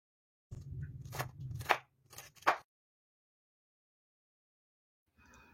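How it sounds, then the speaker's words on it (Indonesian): A knife dicing two carrots on a board for a vegetable ragout filling, a quick run of close, crisp chopping strokes with short pauses, then silence and a faint clatter at the end. "Dan ini ada 2 buah wortel, ini juga mau saya potong-potong dadu."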